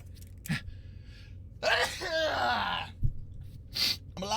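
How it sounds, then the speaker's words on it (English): A person sneezes while playing Outer Wilds, a sharp gasping intake followed by a loud burst, with brief vocal sounds before and after. "Have to sneeze."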